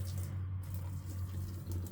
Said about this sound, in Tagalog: Buhusan lang natin ng mainit na tubig.